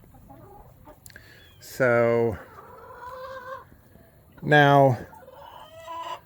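Backyard coop chickens giving two loud, drawn-out squawking calls between softer clucks, close by, with a brief spoken phrase at the start.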